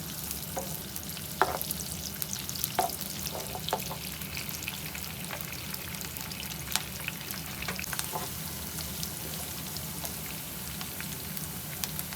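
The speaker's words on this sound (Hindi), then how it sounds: "इसको हल्का सा फ्राई करेंगे।" Chopped onion and white cumin seeds fry gently in oil, a quiet, steady sizzle with scattered soft pops and a few light clinks of stirring.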